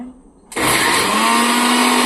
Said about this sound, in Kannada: ಸೊ ಮಿಕ್ಸಿ ಚಾಲ್ ಮಾಡುವ